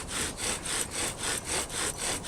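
Wooden bow drill spindle turning in a wooden hearth board, each bow stroke a rasping friction sound that swells and fades in a steady back-and-forth rhythm, about eight strokes, close and alone.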